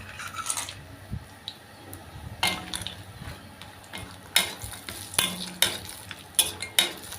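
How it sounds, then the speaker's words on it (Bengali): A few bori lentil dumplings fry in oil after fish, with a steady low sizzle broken by sharp scraping and clanking bursts of stirring that grow louder and more frequent toward the end. "আমি এই তেলে এবার বড়ি কটা ভেজে নেব"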